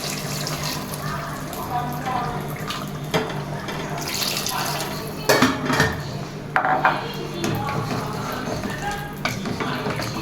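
Hot water splashes and trickles into a metal pot of beef curry amid clattering kitchenware, with a few sharp clanks standing out against steady background noise.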